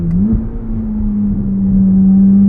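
A 2023 Chevrolet Corvette Z06 engine pulls steadily from inside the cabin, a sustained droning tone that rises slightly and holds, loud and continuous with no talk over it.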